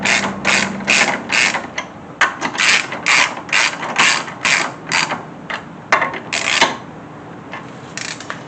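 Ratcheting wrench tightening a part on a Small Block Chevy 350 engine build, a steady run of close, crisp clicking strokes in quick repeated bursts, with no talk.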